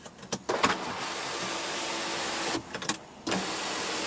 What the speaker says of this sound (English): we also do have a panoramic sunroof with a sliding shade